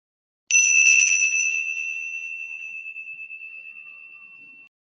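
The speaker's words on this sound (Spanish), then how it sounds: "Vamos a cerrar entonces con el sonido de la campana." A meditation bell struck once to close a guided emotional mastery session, ringing out clear and bright with two sustained tones that slowly fade over about four seconds, alone in silence.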